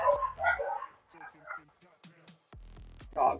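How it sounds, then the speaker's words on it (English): Several excited dogs bark and whimper indoors in sharp bursts, some yips and higher whines mixed in, loud near the start and again at the end, with a person's voice underneath at times. "The dogs just went berserk."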